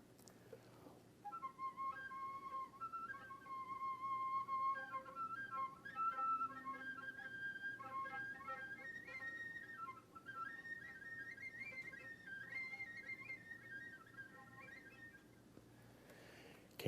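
Flute whistle tones played over a low C fingering, thin high airy pitches that wobble and shift between partials for a sustained stretch, soft and close, with no talk.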